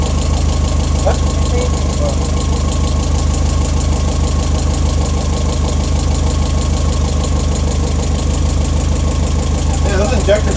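Loud fuel injectors tick and knock steadily over a rough idling engine, a dense continuous clatter close by.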